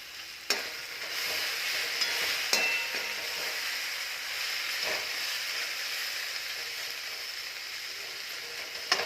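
Okra sabzi with lemon juice and spices is stirred in a pan, giving a soft, continuous sizzling hiss. A few light scrapes and taps of the spoon punctuate it, fairly quiet and with no talk.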